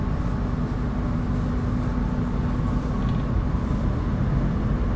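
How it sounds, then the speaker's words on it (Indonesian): KA Parahyangan passenger train underway just after leaving Cimahi station, heard from inside as a steady, loud rolling rumble with constant low drone and no talk. "Ini sekarang kita udah berangkat dari stasiun Cimahi."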